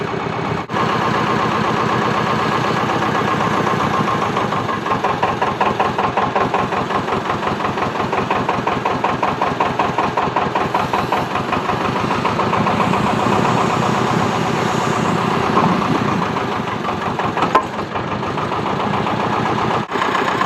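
Diesel engine of a Thwaites Tusker site dumper running steadily with a rhythmic chugging throb, loud and close throughout with no voices.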